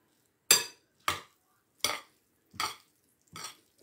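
Five distinct scraping, clinking strokes of utensils tossing a garnished salad in a bowl, evenly spaced and close, each fading quickly into silence.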